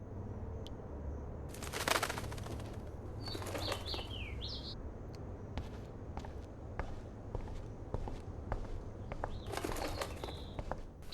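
A bird trapped inside a house in the video game Life is Strange flutters its wings in a few brief bursts and lets out short chirps, over quiet ambience and soft footstep-like taps.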